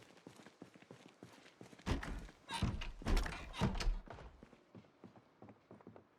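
A zombie bangs on a door in Project Zomboid, a series of heavy irregular thuds clustered in the middle, louder hits standing out over quieter tapping and scuffs before and after.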